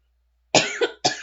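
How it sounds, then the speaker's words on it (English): Two harsh coughs from one person, the first longer with a rough follow-through, the second short and abrupt, close and loud against a silent background. "Sorry about the coughing."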